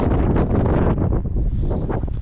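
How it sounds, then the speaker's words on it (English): Strong wind buffets the microphone on a beach at Tolmie State Park near Lacey, Washington, during falling snow, in a steady, roaring rush with gusty fluctuations throughout, loud and close, with no voices. "Oh, it's windy here."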